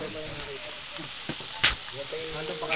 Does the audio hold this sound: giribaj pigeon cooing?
no